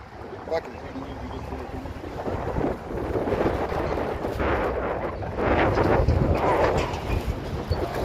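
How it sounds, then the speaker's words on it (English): Strong wind buffets the microphone in heavy, continuous gusts, rumbling and roaring throughout with no clear pauses. "It's windy today."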